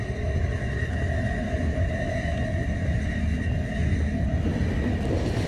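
A train in the video game The Final Station runs with a continuous, even mechanical rumble and hum, steady and uninterrupted, with no one speaking.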